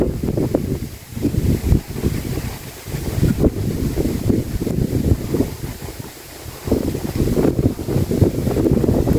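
Wind gusts over a rice field at Ban Kut Rang during fertilizer spreading, loud and buffeting against the microphone in continuous uneven rushes with no voices.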